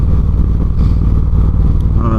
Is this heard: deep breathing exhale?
no